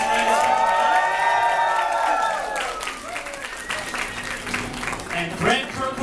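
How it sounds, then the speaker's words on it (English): An audience at a Nintendo New York launch event for Mario + Rabbids Kingdom Battle applauds and cheers loudly, with sustained clapping and whoops that ease slightly toward the end, music or voices faintly mixed in. "let's get another round of applause for Davide Soliani"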